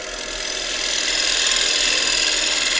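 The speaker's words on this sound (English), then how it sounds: "shear scraping or shear cutting will smooth the surface even more" Gouge shear scraping an oak bowl spinning on a wood lathe, a loud continuous hissing scrape with a steady low motor hum underneath, close and unbroken throughout.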